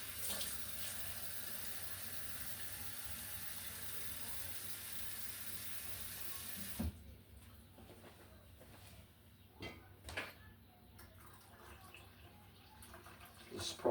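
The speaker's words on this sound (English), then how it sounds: "Might try to add a little bit of cold water." Cold water poured from a tap into a guava mead brew gives a steady rushing stream that runs loud for about seven seconds, then cuts off, leaving quiet room sounds with faint clinks and scattered bumps.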